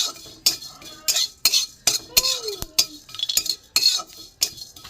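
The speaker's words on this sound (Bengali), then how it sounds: "মৌরি আর এখানে একটা দারচিনি আছে, এটা আমি ভেজে নেবো," Fennel seeds and a cinnamon stick dry roasting in a pan, a spatula or spoon scraping and clinking against the metal in quick, uneven strokes, close and clear with no voices.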